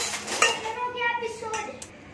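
A spoon clinks against a dish while soaked sabudana and crushed peanuts are mixed together, giving short metallic scrapes and taps, close and fairly quiet.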